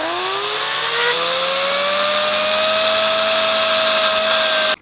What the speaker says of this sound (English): so I can drill another one